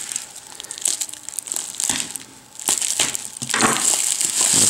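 A well-taped package being torn and pulled open during an unboxing, loud close crinkling and crunching of tape and packaging in uneven bursts with a brief lull midway.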